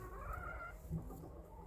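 Soft, low clucking from a bantam rooster in winter, a few short throaty calls heard faintly against a quiet background.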